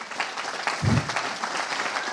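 Audience clapping at an ecommerce agency summit keynote in Valencia, a short, moderately full burst of applause with a brief low thump partway through.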